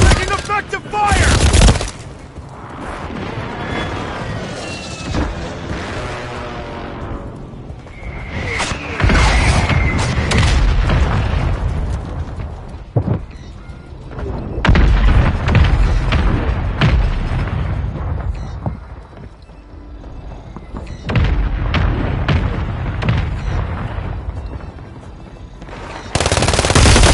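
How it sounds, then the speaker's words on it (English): Gunfire and explosions fill a video game battle: rapid automatic bursts, sharp single shots and heavy booms come in clusters with brief lulls between, loud and close, with occasional voices among the shooting. "Taking effective fire!"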